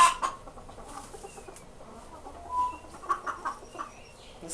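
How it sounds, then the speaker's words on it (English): Inside a shipping container, a golden and white Serama rooster with a dark tail makes close clucking calls. Several short bursts and a few longer crow-like notes come in an irregular rhythm. "Another golden color white rooster with the dark tail."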